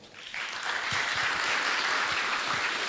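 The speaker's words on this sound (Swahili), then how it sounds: "Wapigieni makofi" Audience at a Kiharu schools gathering breaks into sustained, dense applause that swells after a brief start and stays loud and steady throughout, with scattered sharper claps standing out.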